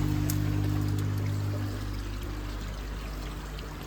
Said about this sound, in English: It does sound like there's something inside the pump, and that sounds like a tiny little piece of stone or something